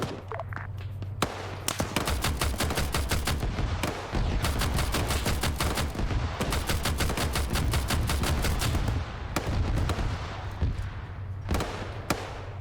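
Long, dense bursts of automatic gunfire in the Arma 3 military game crack almost continuously for over twelve seconds, loud and close, broken by brief pauses and a few isolated shots near the end.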